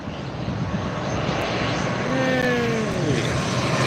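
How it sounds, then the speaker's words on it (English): A propeller or fixed-wing airplane passing near Newcastle International Airport, a steady loud engine roar with a rising then falling whine as it goes by, with no clear talk over it. "Oh, I can hear a plane."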